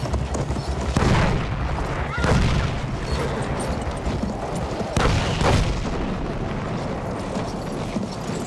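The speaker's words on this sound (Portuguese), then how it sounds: "Artilharia já? Droga!" Artillery shelling in Battlefield 1's World War I campaign: heavy booms strike at intervals over continuous battlefield rumble and scattered gunfire, with some voices in the din.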